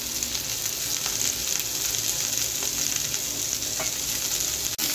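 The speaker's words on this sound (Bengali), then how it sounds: "একটু টস করে দিচ্ছি যাতে একটু উল্টে পাল্টে সব কপিগুলো ভাজা ভাজা হয়ে যায়" Boiled cauliflower pieces fry in a pan and are tossed, with a dense, continuous sizzle close by, broken only by a small bump near the end. No speech.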